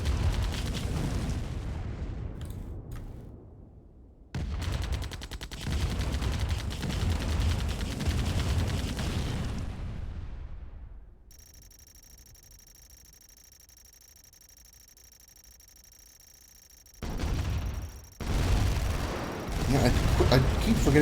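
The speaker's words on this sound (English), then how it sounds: "The airstrikes." Airstrike explosions in Command & Conquer Remastered, long roaring blasts and heavy rumbling that fade out, a quiet gap with a faint tone, then fresh booms returning near the end.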